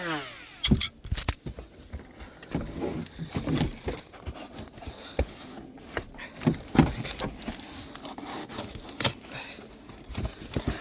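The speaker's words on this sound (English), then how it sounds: "So use my angle grinder." Angle grinder cutting open the packaging on a new brake rotor for a car: scattered close scraping and crinkling bursts with sharp clicks and rustles, uneven and stop-start, no talk.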